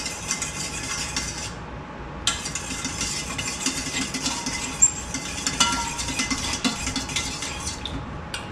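A spoon scrapes and clinks against a bowl while lemon sorbet ingredients are mixed with sugar, a steady close-up stirring rattle with a low hum behind it.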